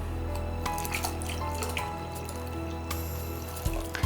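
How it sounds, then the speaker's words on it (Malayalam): Water is poured steadily into a mango cucumber drink being mixed at home, a continuous splashing stream with a brighter burst near the end and no talk. "ഇനിയും വെള്ളം ചേർക്കാം."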